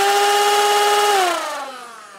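Modded Nerf proton pack blaster with a hose-fed backpack firing darts rapidly, a loud continuous whirring motor drone that winds down in pitch as it stops, close with no talk.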